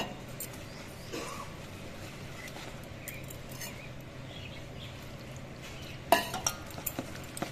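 Thick batter of turmeric, dried chili powder and water being mixed in a bowl, faint soft stirring and squelching, then a few sharp clinks of utensil against the bowl near the end.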